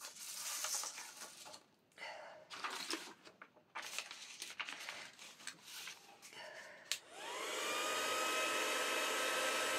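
A heat gun runs for hot embossing on a paper craft project, a steady airy whoosh that switches on partway through after rustling, tapping and handling noises, and continues close and even to the end.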